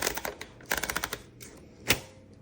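Paper is loaded into a 1947 Royal Quiet Deluxe typewriter, heard as a quick run of sharp clicks and ratcheting taps followed by a final louder mechanical clack, close and alone.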